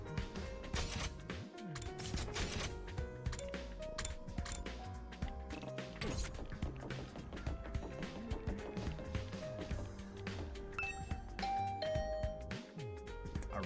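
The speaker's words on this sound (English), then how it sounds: "I rang the doorbell." A doorbell chimes in The Hundred Line: Last Defense Academy video game, its faint tones sitting amid a busy bed of mechanical clicks and background music.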